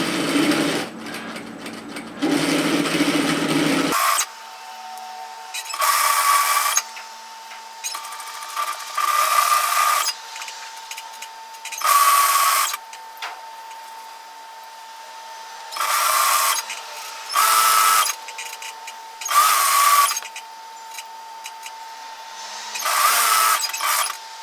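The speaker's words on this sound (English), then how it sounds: "now I'm going to just rearrange everything and continue stitching my hem" A sewing machine stitches a cardigan hem in repeated whirring runs of a few seconds each, with pauses between, after an opening stretch of handling and adjustment; close and steady, no speech.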